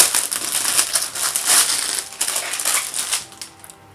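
Crinkly crushing and rustling of packaging material as an Amazon parcel is torn open, a steady close run of crackles and crumples with no talking.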